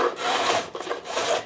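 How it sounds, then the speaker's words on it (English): A file rasping across guitar fret ends during a refret, close and loud, with a few long rough strokes and short breaks between them, no talking. "you can hear that file grabbing right now, still grabbing a little bit."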